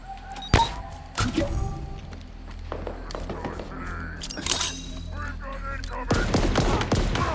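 Gunfire rings out in the Halo Infinite campaign, several sharp shots and bursts with impacts scattered over game noise, while someone talks at times.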